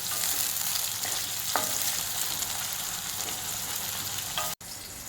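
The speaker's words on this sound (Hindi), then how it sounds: "टमाटर डालेंगे और टमाटर को भी अच्छी तरह से खिला लेंगे।" Tomatoes fry and sizzle in a pan while being stirred for chicken khichda, a steady loud crackle with a few scraping stirs and a brief sharp knock near the end.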